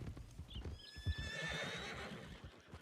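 A horse whinnies with rising harmonic calls while hooves clip-clop steadily beneath, fairly close and clear, with a Red Dead Redemption-style roleplay game soundscape behind.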